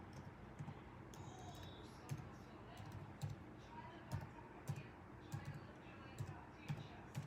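Soft computer keyboard typing in a room, a run of light key taps and a few sharper clicks at an uneven rhythm, fairly faint, with a voice talking over it.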